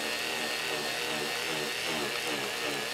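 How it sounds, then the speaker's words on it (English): A Dremel rotary tool runs steadily at low speed while polymer clay is being sanded, giving a continuous whirring drone that stays close and even with no pauses. "Now I'm using a very low speed on my Dremel."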